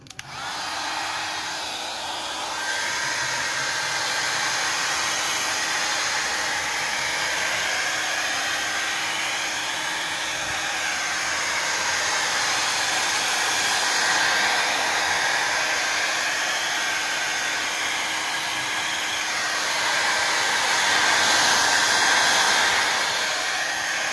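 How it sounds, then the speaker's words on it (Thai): A heat gun blows hot air onto a car tyre coated with black tyre dressing, giving a steady, loud, continuous whooshing roar that lasts throughout with no talking. "เดี๋ยวผมจะใช้ตัวได เป่าความร้อนตัวนี้เลยนะครับ"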